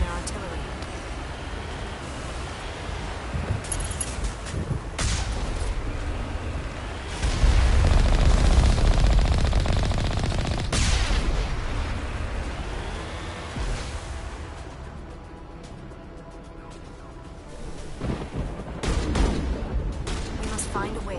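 Artillery and gunfire ring out on the battlefield in Mass Effect, with scattered sharp shots and heavy booming swells over a continuous rumbling din, while voices talk over parts of it.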